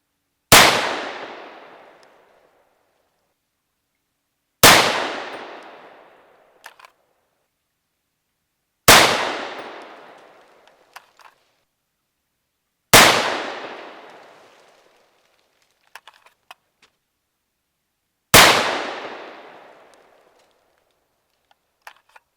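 Five loud, sharp rifle reports from a 300 Blackout firing 240gr Sierra MatchKing subsonic rounds, evenly spaced about four seconds apart, each ringing out briefly and followed by faint mechanical clicks.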